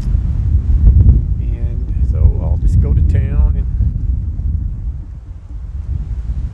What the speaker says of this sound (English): but it's just so doggone windy